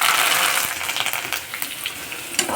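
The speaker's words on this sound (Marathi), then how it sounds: "तेल चांगले तापले, आता आपण त्यात जिरा टाकून घेऊया।" Cumin, chilies and curry leaves sizzle and crackle loudly in hot oil, a dense bright frying hiss with scattered sharp pops, heard close and alone.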